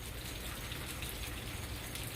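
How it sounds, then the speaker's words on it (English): Steady, dense rain with wind during Hurricane Dorian in Orlando, a continuous close hiss of falling water that holds level without clear breaks. "sort of infrequent gusts of strong wind that keep coming, and the rain hasn't stopped"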